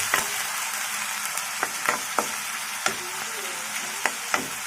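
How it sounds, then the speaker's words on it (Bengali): Chicken frying on low heat in a pan for noodles, a soft continuous sizzle broken by several sharp scrapes and clicks of a spatula stirring, close by with no talking. "আমি লো হিটে আমি চিকেনটা রান্না করতেছি"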